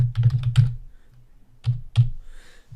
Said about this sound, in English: Here I'm manually typing in my list